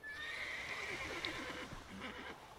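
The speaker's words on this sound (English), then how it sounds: "The horse is freaking out." A horse in The Witcher 3 neighs with a high, wavering whinny that stretches across most of the moment, backed by faint hoof clip-clops and game ambience, with no talking.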